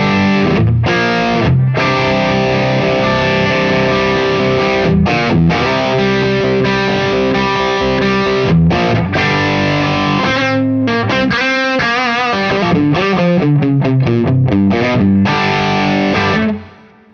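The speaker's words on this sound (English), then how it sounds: "Let's try an overdrive pedal. Most people are familiar with the tube screamer" An electric guitar played through a Tube Screamer overdrive pedal into a clean amp, loud and alone: sustained overdriven chords broken by short pauses, then quicker picked notes before cutting off.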